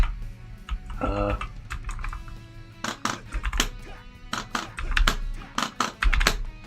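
Rapid, irregular clicking and clacking of keys on a computer keyboard, struck close by in uneven bursts over a low background hum.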